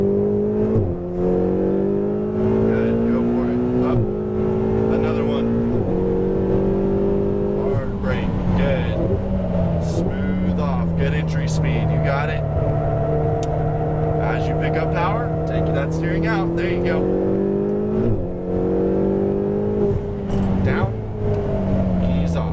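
A sports car on a race track accelerates hard and shifts up through the gears, its loud engine note climbing and then dropping at each shift, with an instructor's voice talking over it.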